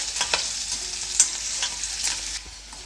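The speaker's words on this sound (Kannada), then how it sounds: "ಕರಿಬೇವು ಮತ್ತು ಬೆಳ್ಳುಳ್ಳಿ ಸ್ವಲ್ಪ ಫ್ರೈ ಆಗಬೇಕು" Curry leaves and garlic fry in a hot pan for an avalakki (beaten rice) mixture snack, giving a close, steady crackle and sizzle, with stirring scrapes and no talking.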